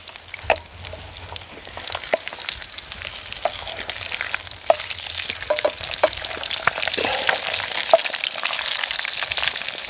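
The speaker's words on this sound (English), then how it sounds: "Now let's see if we can flip these eggs." Eggs frying in a pan, with a steady sizzle and scattered clicks and scrapes as a spatula works under them to flip them, close and alone with no talk.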